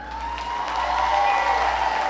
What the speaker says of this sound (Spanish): Si les gustó, se aplaude.